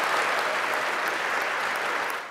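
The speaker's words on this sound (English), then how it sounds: "Crowd applause." An audience claps at an induction ceremony, a brief, full wash of steady applause that stays loud throughout and then begins to fade.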